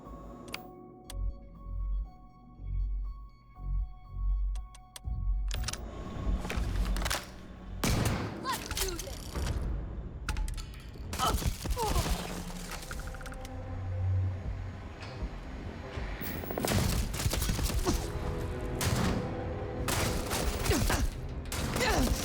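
Shotgun blasts in the sci-fi video game Starfield, a few loud booming shots separated by pauses, joined later by dense bursts of rapid gunfire and clattering action sounds.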